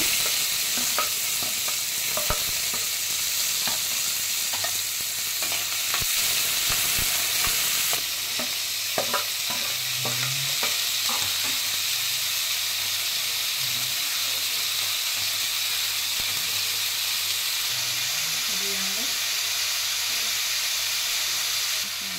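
Cumin seeds and chopped onions fry in hot oil in a pan, giving a steady close sizzle with hiss and scattered pops and crackles, plus occasional stirring clatter from the spoon throughout.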